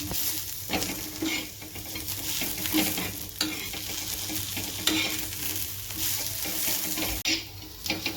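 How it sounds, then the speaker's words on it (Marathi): Garlic and ginger pieces sauté in a pan with a dense, continuous sizzle and crackle, stirred now and then with soft scrapes and one brief knock, heard up close with nobody speaking. "आता मी दोन मिनटं परतून घेणार आहे लसूण आणि अद्रक पण"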